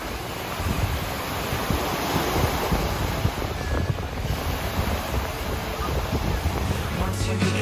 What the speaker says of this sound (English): the waves at this beach can be really high.